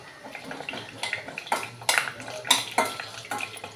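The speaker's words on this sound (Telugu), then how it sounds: "ముందుగా పల్లీలు ఏమో తీసుకొని ఇందులో ఆయిల్లో వేసి వేయించుకొని" Peanuts frying in hot oil while being stirred, giving irregular scraping clinks of a spoon against the pan over a low, crackling fry.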